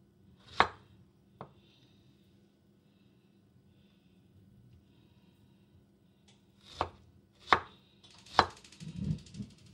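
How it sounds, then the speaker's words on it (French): A knife cutting fruit into quarters for an exotic fruit salad, sharp isolated chops striking a board, two early then three spaced late, with quiet breathing and handling noise between. "j'ai envie de les couper en quartier"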